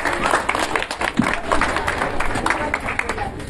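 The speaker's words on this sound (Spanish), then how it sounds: "Fuertes los aplausos, por favor." An audience claps at an outdoor school event marking the International Day for the Elimination of Violence Against Women, steady applause throughout with scattered sharper claps, blended with crowd chatter.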